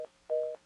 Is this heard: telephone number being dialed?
yes